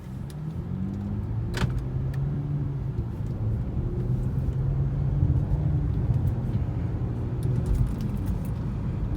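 Inside the cabin of an Acura TLX with a muffler delete, cruising gently in Eco mode: a steady, fairly quiet low engine drone and road rumble, with no speech.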